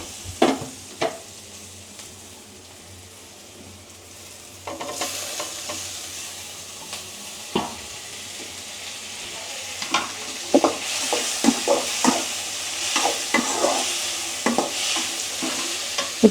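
Tomatoes sauté in a pan for fish kulambu, stirred with scraping strokes over a sizzle that grows louder and fuller partway through, close up, with no talking.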